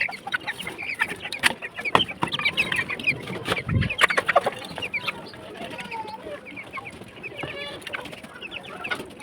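Chickens cluck and call on a farm on a winter morning, in scattered close and distant calls mixed with other bird chirps and an occasional soft thump.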